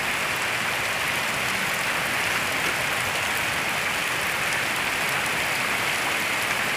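Heavy rain pours down outdoors in a dense, unbroken hiss, loud and steady throughout with no voices.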